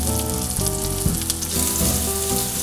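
A tiger nut crusted outside round roast beef sears in a hot pan, giving a steady, dense, loud sizzle and crackle throughout, close up with no voices.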